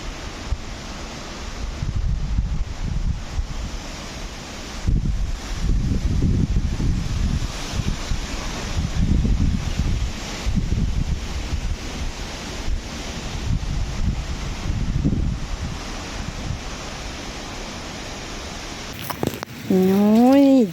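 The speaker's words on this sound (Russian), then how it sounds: "Мне прямо совсем этот ветер не нравится." Strong wind buffets outdoors on a rural property, roaring in loud irregular gusts that rise and fall across the whole stretch, with a brief warbling tone near the end.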